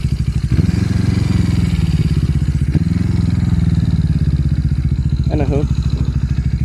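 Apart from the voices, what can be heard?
Yamaha XS400 motorcycle engine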